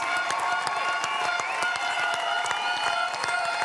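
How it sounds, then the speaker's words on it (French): A committee stands and applauds young pastry chefs at the 2013 Coupe du Monde de la Pâtisserie prize ceremony, dense sustained clapping from a large crowd with crisp individual claps and a background of cheering voices. "tous les membres du comité sont debout pour applaudir et fêter ces jeunes pâtissiers"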